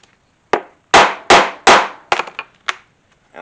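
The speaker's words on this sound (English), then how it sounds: "I try to rotate my tool, my setting tool, as I hit." A rivet setting tool hammered into 8-ounce leather on an anvil, with several sharp, loud metallic strikes in an uneven rhythm close to the mic, followed by a few lighter taps.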